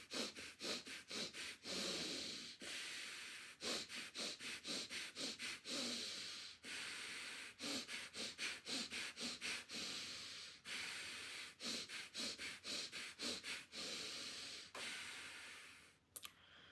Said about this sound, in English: we are going to breathe from the nose, and we are going to do 4 short breaths and 1 long breath